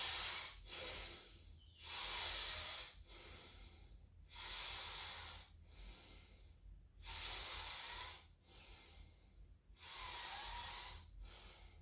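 Slow, deep breathing while holding a yoga posture for post-Covid strength recovery: about five long, airy inhale-exhale cycles in a steady rhythm, close and clear with no talk.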